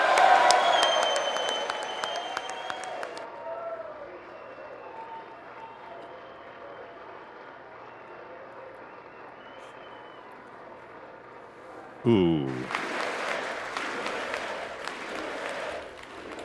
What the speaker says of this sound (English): Not a lot of claps from the right of the room.